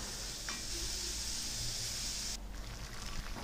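Tempering for Sri Lankan parippu (dhal curry) with sarana leaves fries in hot oil until golden, giving a loud, steady hiss and crackle for over two seconds before the sizzle suddenly thins and quietens.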